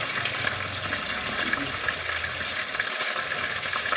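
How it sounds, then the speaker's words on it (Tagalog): Chicken pieces frying in a pan as the first step for adobo, a steady dense sizzle and crackle of hot oil throughout, close and continuous with no talk. "piniprito ko muna yung manok"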